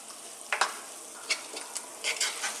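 Saag aloo of potatoes and spinach cooking in a pan over low heat, with a soft steady sizzle and a few sharp stirring scrapes against the pan, close by with no talk.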